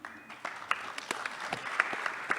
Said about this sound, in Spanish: un aplauso para estos tres señores, un aplauso para ustedes